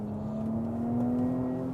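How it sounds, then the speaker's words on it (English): A Porsche Cayenne SE hybrid SUV with a turbo V6 engine accelerates, its steady engine tone rising slightly in pitch as it pulls, heard close and alone without voices. "this powertrain is fuel efficient and still sounds like sex on a stick"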